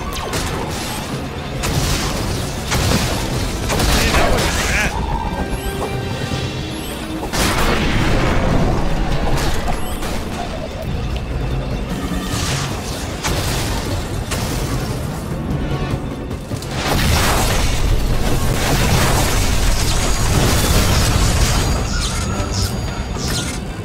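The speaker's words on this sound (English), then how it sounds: "the explosion has opened up another path" Missile explosions in the Monsters vs Aliens video game boom repeatedly over a dense, loud mix of game effects and music, with heavy crashing bursts recurring throughout.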